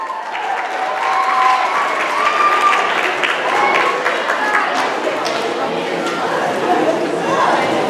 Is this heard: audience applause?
yes